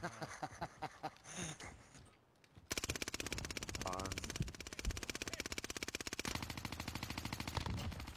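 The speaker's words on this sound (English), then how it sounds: "just put a whole clip out and I could not hit that guy from like 60 meters out" Rapid automatic gunfire from the video game Call of Duty Warzone, with a short burst first, a brief pause, then sustained loud fast-rhythm firing that runs to the end.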